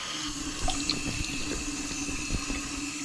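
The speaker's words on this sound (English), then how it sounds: "then we want to wash this out. And we just do that with warm water." Warm tap water runs steadily from a faucet into a sink, rinsing out a small container, with a constant splashing stream and a few louder sloshes as the water hits it.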